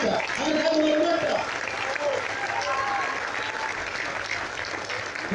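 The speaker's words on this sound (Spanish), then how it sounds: "Vamos a darle un fuerte aplauso" Sustained crowd applause at an outdoor political rally in a public plaza, a dense continuous wash of clapping with cheering voices mixed in, fairly loud and steady throughout.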